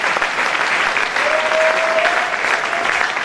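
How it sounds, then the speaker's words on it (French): Church congregation applauding during a sermon, a steady dense wash of clapping throughout, fairly loud and sustained with a faint held tone partway through. "Applaudissons."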